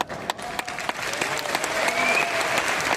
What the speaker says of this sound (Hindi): इन लोगों की तालियों से इस बात का एहसास होता है